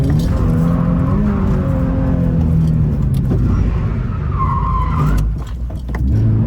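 A Toyota GT86 drifting, its tyres squealing in long sliding bursts while the engine revs and wavers close by, with a brief dip near the end before the noise picks back up.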